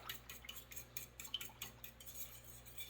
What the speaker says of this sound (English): We're going to kind of stir this around a little bit.